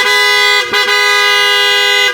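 An aftermarket PIA horn fitted to a Honda ADV 160 scooter blares as one loud, steady, bright tone, cut by a very brief dip, and heard up close with no talk.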